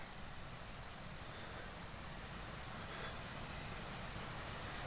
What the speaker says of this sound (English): So there we are, the waterfall.